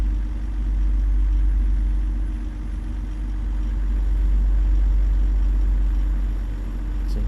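A heavy truck engine in American Truck Simulator holds a steady, loud low drone while climbing a hill, the revs dipping only slightly, with no talk over it.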